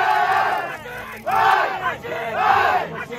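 A stadium crowd of about twenty thousand spectators at a World Cup ski event at Le Grand-Bornand roars and cheers in rising chanting surges, loud and reverberant, with applause underneath and no clear talk.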